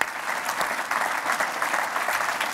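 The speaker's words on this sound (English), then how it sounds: "Shall we applaud this boring person that we like so much?" Audience applause at a European Central Bank farewell gathering for Andrea Enria, a steady, dense patter of many hands clapping throughout, moderately close and without speech.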